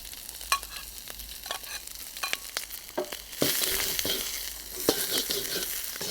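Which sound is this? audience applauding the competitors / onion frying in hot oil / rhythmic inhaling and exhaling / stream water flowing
onion frying in hot oil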